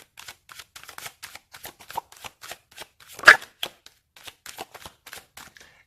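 Tarot cards shuffled by hand in a quick run of crisp riffling flicks and soft slaps, with one louder snap near the middle, close and alone with no talk.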